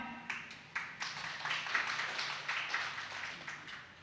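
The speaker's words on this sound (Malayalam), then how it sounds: "നമുക്കൊരു പ്രോത്സാഹനമായിട്ട് നല്ലൊരു കയ്യടി കൊടുത്താലോ?" An audience claps at a gathering, giving scattered, fairly faint handclaps with irregular taps that build into a brief, thin round of applause, with no speech over it.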